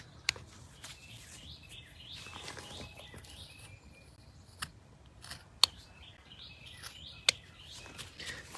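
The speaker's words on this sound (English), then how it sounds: "Birds are singing, the weather's quite nice." Birdsong outdoors on a mild spring day: scattered chirps and short tweets, fairly faint and distant, with a few sharp clicks and soft rustling, no talking.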